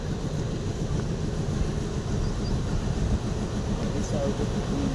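A train engine passing a railway crossing near a village, a loud, steady rolling rumble that fills the whole stretch without letup.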